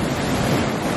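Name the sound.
waves on a beach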